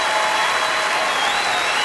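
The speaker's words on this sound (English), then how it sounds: "Listen to the crowd." A crowd at a Jeff Foxworthy comedy show applauding, a dense continuous wash of clapping and cheering that holds loud and steady through a short burst.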